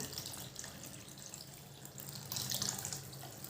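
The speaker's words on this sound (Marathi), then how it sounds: "आपण पाणी ॲड करूया" Water pours steadily into a pot of sambar with a continuous splashing rush that swells louder near the end, no voices.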